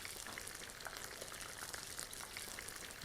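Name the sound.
fish frying in a pan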